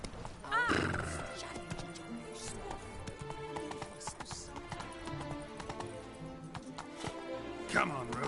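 Hoofbeats of Roach, Geralt's horse in the video game The Witcher 3, running with a neigh near the start and steady clopping under continuous game sound and background voices.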